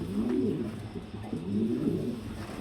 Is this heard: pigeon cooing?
yes